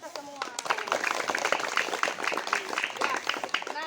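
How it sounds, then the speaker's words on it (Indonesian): An audience at a school positive-culture dissemination session breaks into steady applause lasting a few seconds, with voices mixed in underneath. "Yuk, tepuk tangan untuk kita semua."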